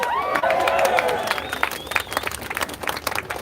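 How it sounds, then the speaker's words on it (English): Crowd applause and cheering from a rally audience inside a New Hampshire brewery, clapping that fades down over a few seconds with a whistle and voices mixed in. "Round of applause"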